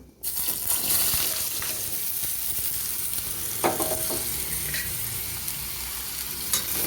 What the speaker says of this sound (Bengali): আলুটাকে আমি নেড়ে চেড়ে একটু খুব ভালো করে না হলেও মোটামুটিভাবে ভেজে নেব